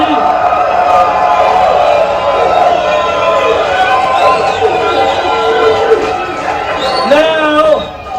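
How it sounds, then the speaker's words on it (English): A wrestling arena crowd cheers and whoops loudly and steadily, with a dense wash of voices and applause. Some shouts rise above it near the end. "place my hand over each designated wrestler with a sound of applause"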